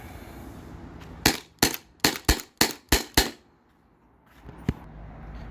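A modified Sabre 68 CO2 launcher fires seven sharp, loud shots in quick succession during a magazine dump, then falls quiet, with one fainter pop near the end.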